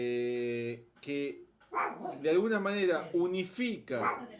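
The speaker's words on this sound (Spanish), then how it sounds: "perdón por mi perro" A pet dog barks and whimpers indoors, several short yips and barks breaking in over a man's ongoing Spanish lecture.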